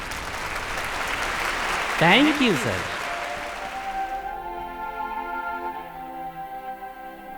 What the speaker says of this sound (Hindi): आप सब तालियां बजाइए, सेवक राम जी माइक पर आ रहे हैं।